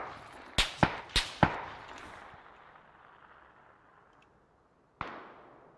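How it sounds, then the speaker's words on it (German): Gunfire in the video game PUBG: a quick burst of four sharp reports with ringing tails, then a single further shot after a pause. "Zwei Schüsse."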